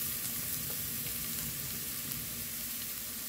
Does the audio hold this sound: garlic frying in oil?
yes